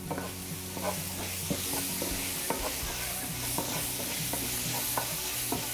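A pan of vegetables is stirred in sizzling bacon fat, the spoon scraping and clicking in quick repeated strokes over a steady close frying hiss, with no talking.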